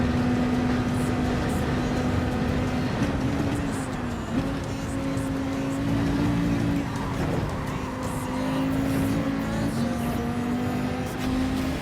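Race car engine in a racing video game at Daytona, a steady loud drone that holds through the clip with brief revs and shifts, with tire squeal and other cars nearby.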